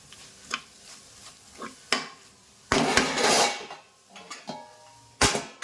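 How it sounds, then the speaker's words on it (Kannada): Spice mixture being stirred in a pan for a home dinner recipe, a utensil scraping and knocking against metal in scattered clatters with one longer burst of scraping midway, close and fairly loud. "ಈ ರೀತಿಯಾಗಿ ಮಿಕ್ಸ್ ಮಾಡಿ"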